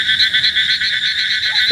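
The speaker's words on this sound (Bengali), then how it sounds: "ঝিঝি পোকার ডাক শুনে বুঝতে পারছেন যে রাত অনেক গভীর।" Crickets chirp on a quiet rural road deep in the night, a loud, steady, rapidly pulsing trill that continues unbroken with no voices.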